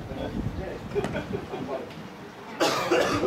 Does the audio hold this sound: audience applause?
no